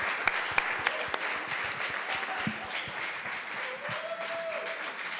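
Steady applause from a church congregation, a continuous wash of many hands clapping at moderate distance, with a few sharper individual claps standing out.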